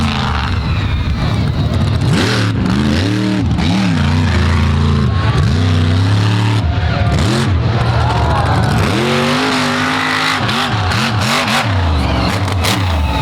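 A monster truck engine roars and revs hard during an all-stars arena run in Naples, loud and continuous with repeated rising and falling pitch sweeps under crowd noise and an announcer's voice.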